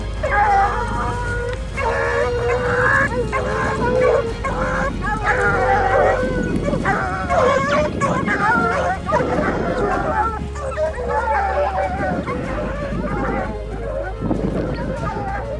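A pack of hunting hounds baying and yelping in the mountains, a steady overlapping chorus of barks with some babble of voices mixed in.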